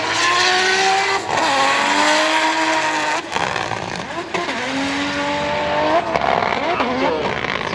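A drift car at the POWERFEST 2025 race event slides through the track's judged zones, its engine revving hard in rising and falling sweeps with tire squeal, loud and continuous, while an announcer's commentary runs over it.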